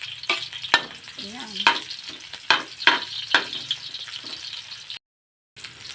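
Chopped garlic and onion sauté in a hot pan for ginataang gabi, a steady sizzle broken by sharp scrapes and clacks of stirring, then a brief silent gap before the frying resumes.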